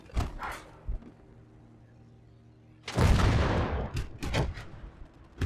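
The SU-152 self-propelled heavy gun fires in the WWII game Gates of Hell: after quieter rumbling, one massive, booming blast erupts and rolls on for over a second, followed by smaller distant thuds.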